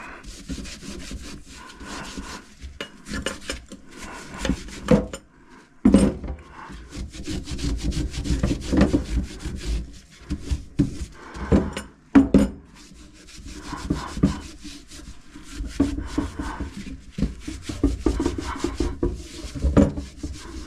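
Scrubbing a rally steering wheel ring with Sim soap, a steady rhythmic rubbing and brushing that runs throughout with brief pauses, close and fairly loud, no talking.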